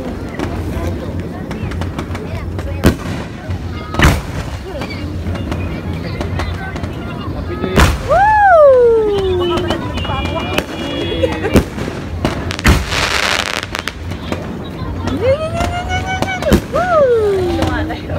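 New Year fireworks at Treasure Mountain in Tanay, Rizal, bursting in scattered sharp bangs with fizzing crackle and a few rising whistles, over the steady chatter and exclamations of a nearby crowd.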